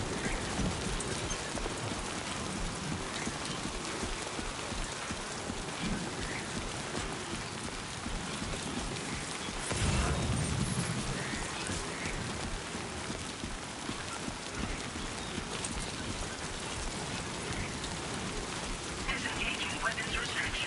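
Steady rain pours down across a desert in a video game, a dense, continuous hiss throughout, with a brief low rumble near the middle and a voice talking over it.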